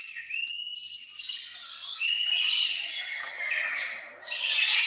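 Lorikeets in a zoo aviary give a continuous chorus of shrill, overlapping squawks and chirps, fairly close and busy, with a brief whistle-like tone near the start.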